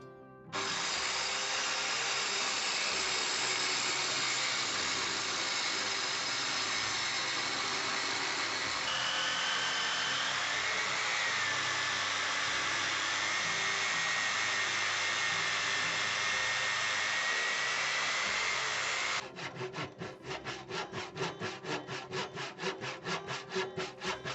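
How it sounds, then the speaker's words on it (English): A power saw rips through wood being cut to size for a stair riser in a loft, a loud sustained whine for about eighteen seconds that ends in a rapid rattling buzz as the cut finishes. "measure up carefully and cut the wood"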